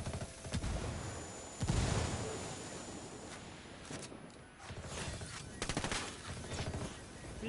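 Gunfire and explosions in Ghost Recon Wildlands, a frag grenade going off amid a dense exchange of shots; a heavy blast near two seconds stands out, with bursts of fire continuing close and loud throughout.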